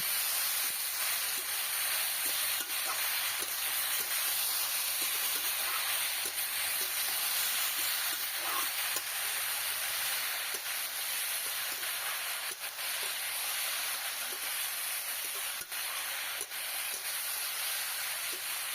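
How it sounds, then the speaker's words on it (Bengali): Bottle gourd fries slowly in a pan with green chilies and ginger, giving a soft, continuous sizzle and hiss with occasional faint stirring clicks and no talking. "এবার একটু আস্তে আস্তে কষিয়ে নেবো লাউটা"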